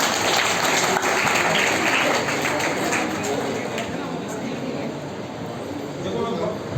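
A school audience at a state tourism quiz event claps in a steady, dense round of applause after a team is announced, and the clapping runs for several seconds. A voice can be heard talking faintly under it.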